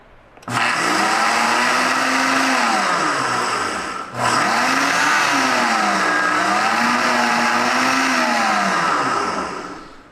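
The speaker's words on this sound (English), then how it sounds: "this is a very high-powered blender, so it does grind really, really fast" A high-powered countertop blender grinds ingredients into flour, its loud motor whining steadily at full speed, briefly cutting out and restarting before running on and fading slightly at the end.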